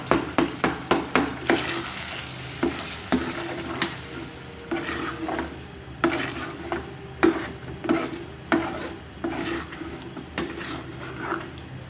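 A spoon stirring eggs cooking in a spiced masala in a pan: repeated sharp metal taps and scrapes against the pan over a continuous soft sizzle, close and steady, without any talking.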